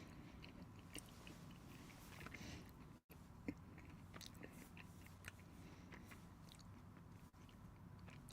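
A caramel-filled, chocolate-covered pretzel is chewed close to the mic, with steady crunchy bites and mastication running throughout and no talking.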